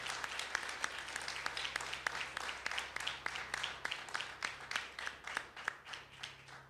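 An audience gives a rhythmic round of applause at an inauguration speech, clapping together in a steady beat that grows more distinct toward the end, with no voices over it.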